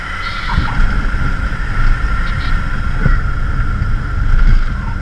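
Light aircraft touching down on the runway at Catalina Airport, a steady loud cabin drone with rumbling wind and a few soft thumps as the wheels meet the ground, no voices.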